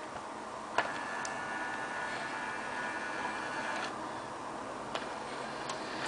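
A small motor whirs steadily with faint ticks and mechanical clicks, close and fairly quiet, as a disc is ejected from an XTRONS D4303G car stereo.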